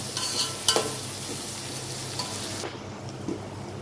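Ingredients for egg semiya fry in a pan with a dense, even hiss of sizzling oil, a brief clatter of a utensil near the start, and a drop in the high crackle toward the end; no voices.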